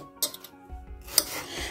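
Knife cutting an apple into small pieces on a board, with a few sharp clicks of the blade against the surface and some soft handling noise, heard close and without speech.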